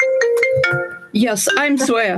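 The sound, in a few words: phone ringtone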